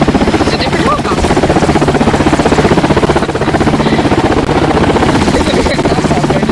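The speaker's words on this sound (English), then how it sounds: "Wait, it's a different helicopter." A helicopter flying nearby at a crane barge, its rotor thumping in a fast steady pulse, loud and close throughout with occasional voices underneath.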